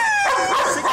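A single sharp bark from a Malinois during a training session, loud and close, lasting under a second.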